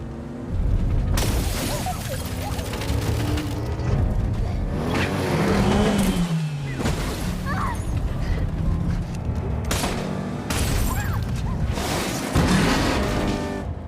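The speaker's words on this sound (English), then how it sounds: "Workman chased them in his car and crashed into the police vehicle, terrifying Jesse" A car chase ends in a crash into a police vehicle in a Jason Statham action thriller. Dense roaring engines, screeching tires and heavy impacts fill the scene, with loud bursts and booms continuing throughout.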